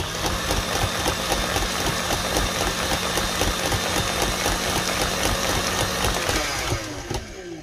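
An electric mixer beats tres leches cake batter at high speed, giving a loud, dense, rattling whir that runs steadily for several seconds before winding down at the end.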